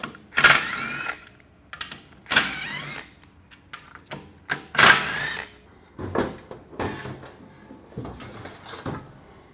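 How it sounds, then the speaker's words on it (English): Wrench work on transmission pan bolts gives a series of sharp ratcheting bursts and metallic clinks spaced every second or two, close and fairly loud, with softer tool handling between them. "So we're going to roll it over now and remove the pan bolts."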